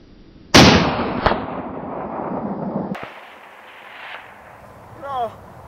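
A Howa .308 rifle fires one sharp, loud shot at long range, its crack ringing out in a long decaying echo, followed by quieter knocks and faint background sounds.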